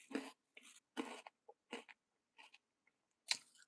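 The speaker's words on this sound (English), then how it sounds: "Cocoa Puff is very, very crunchy." Crunchy Cocoa Puffs cereal is chewed with ice cream from a homemade banana split, heard as a series of short, quiet, crisp crunching bites spaced apart with silence between them.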